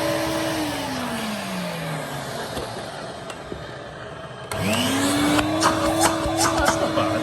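A vintage Electrolux 302 vacuum cleaner with an ancient bag and weak suction drones steadily while its whine sags, then jumps to a louder, higher-pitched roar partway through, running alone without talk.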